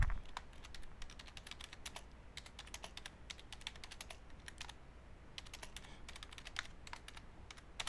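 Quick, uneven typing on a computer keyboard, a close run of light clicky keystrokes in short bursts with brief pauses between them.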